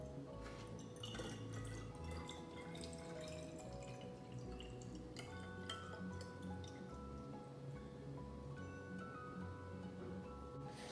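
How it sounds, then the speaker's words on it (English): Water poured slowly from above into a bottle topped with a mesh screen and toothpicks, a soft continuous trickle and dripping heard close up throughout, with no talking. "Now I'm going to pour some water in the bottle slowly."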